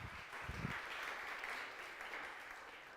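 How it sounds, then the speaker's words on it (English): Applause from a church congregation at an Easter youth service, a steady, moderately distant wash of many hands clapping that holds evenly throughout with no talk over it. "Give Perry a round of applause."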